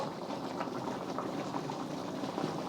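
Mongolian beef sauce and pasta simmering in a wok, giving a soft, steady bubbling and crackling sizzle, fairly quiet, with no voices.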